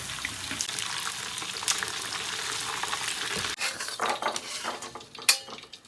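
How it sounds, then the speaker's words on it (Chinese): Ham sausage being deep-fried a second time in hot oil gives a steady, close sizzle and crackle, with metal utensils clinking and scraping against the pan throughout. "炸的差不多了，老酥准备再复炸一遍"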